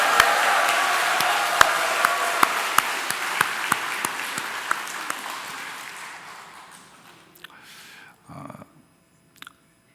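A church congregation at a Sunday service applauds warmly as a championship flag is waved, a dense steady clapping with a few sharp louder claps, gradually fading out, followed by brief talking.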